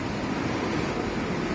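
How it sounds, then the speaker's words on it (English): Big river flowing near the meeting point of two rivers at Razamai village, a steady broadband rush of water with no breaks, moderately faint and even. "This is Razamai river,"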